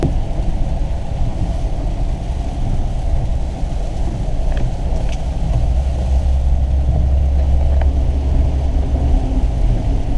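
A four-wheel drive truck rolls slowly through still flood water on a Phoenix street during a rare flash flood, with a steady low engine rumble, wind buffeting and a few faint splashes.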